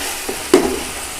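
Tomatoes frying and sizzling in a pan for mutton biryani, a soft steady sizzle with a brief stir-like burst of sound near the middle, close and alone with no talking.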